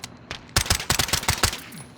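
Rapid pistol fire in Call of Duty, a fast burst of a dozen or so sharp, evenly spaced shots close and loud over about a second and a half.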